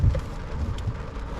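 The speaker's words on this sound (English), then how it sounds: "We just arrived to Kuldiga and it's raining. Actually, it's hard rain." Hard rain falls steadily on arrival in Kuldiga, Latvia, a dense, even wash of noise that holds at one level for the whole short moment with no voices.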